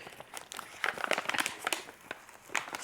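Crinkling plastic packaging as an advent quilt box is opened, close irregular crackles and rustles in quick bursts, with no talking.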